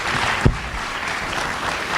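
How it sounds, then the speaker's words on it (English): A crowd at a leadership fashion show event breaks into steady applause, a dense continuous clatter of many hands with one louder thump near the start. "Let's give them a round of applause"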